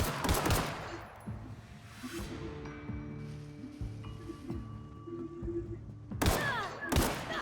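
Gunfire from a firefight in the video game The Outer Worlds: dense bursts of shots open the clip, then a quieter stretch of game sound and tones before more loud, close shots erupt near the end.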